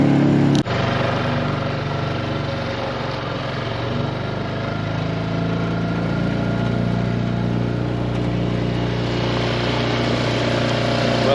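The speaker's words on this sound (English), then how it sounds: "see, you can hear the motor right now." A small outboard motor on an old 14-foot boat drones steadily, a low buzzing engine hum that holds constant throughout, close by, with no talking.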